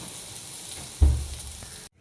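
A thalipeeth roasts in a pan until golden brown, giving a soft, steady sizzle and a brief louder burst of hiss midway before the sound cuts off.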